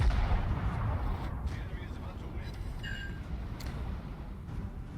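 Battleship turret guns firing in World of Warships, a heavy, rumbling barrage of naval gunfire that stays loud and dense throughout, with faint talk under it.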